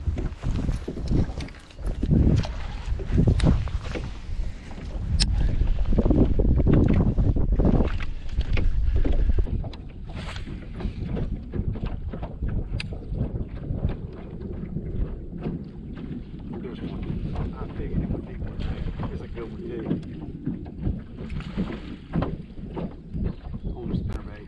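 Strong wind gusts over a lake around a jon boat, buffeting the microphone with loud rumbling rushes that ease into a steadier blustery roar, with someone talking at times over it.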